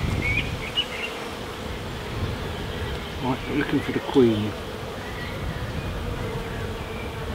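Honeybees buzz steadily around an observation hive frame outdoors on a windy day, a close, continuous droning hum, with a person talking over it and a few faint bird chirps.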